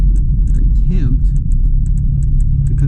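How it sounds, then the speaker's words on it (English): A log truck approaches at high speed on a rural road, its heavy engine rumbling loudly and steadily, with a brief rising whine in the middle and occasional sharp ticks over the drone. "Log truck coming at high speed."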